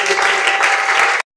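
A church congregation claps and cheers for the Lord, dense sustained applause filling the space before cutting off abruptly.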